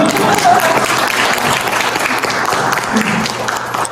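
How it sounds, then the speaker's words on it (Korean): Audience applause at the opening of a Korean ink-painting exhibition, a sustained round of clapping from a gathered crowd with some voices mixed in underneath. "박수 쳐주세요"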